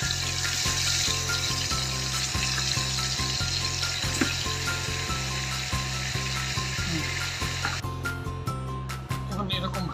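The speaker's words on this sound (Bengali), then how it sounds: "মাংসগুলো একটু ভেজে নেব ভালো করে।" Meat fries in plenty of oil, a steady crackling sizzle running throughout beneath a low rhythmic background thump, with speech present.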